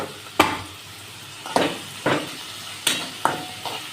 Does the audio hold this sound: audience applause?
no